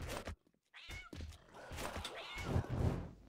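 A game-mod cat meows repeatedly in quick, close calls, fairly loud and continuous with no talking over it.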